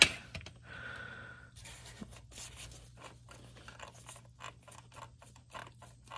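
A loose shift lever with a worn bushing on a Mercury Marauder is worked back and forth, giving close, quiet mechanical clicks, creaks and rattles in an uneven rhythm over a low background hum.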